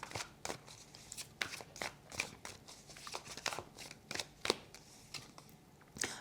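Tarot cards being drawn and handled during a reading, giving a run of short, crisp shuffling and snapping clicks at an irregular rhythm, close up and fairly quiet, with no talking over them.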